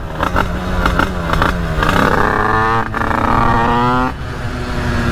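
A 50cc moped engine revs hard and accelerates up close, its whining pitch climbing in repeated sweeps with short throttle blips and a brief drop before rising again, loud and alone.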